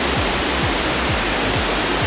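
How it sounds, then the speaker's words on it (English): A waterfall roars loud and steady, a dense unbroken rush of falling water heard up close, with faint low thumps repeating at an even pace beneath it. "I've got the waterfall framed just through that branch there."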